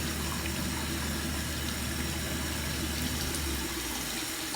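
Water runs continuously from a bathroom sink tap while a face cloth is rinsed under it: a steady, close, even rush with no pauses.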